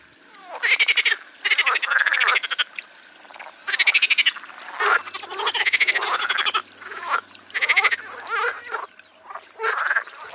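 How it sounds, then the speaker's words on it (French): Green frogs croak in a pond, loud rhythmic bursts of rapid trilling calls repeating close by, with no talk. "Les ténors de ce concert sont bien entendu les grenouilles vertes, toutes entières à leurs amours."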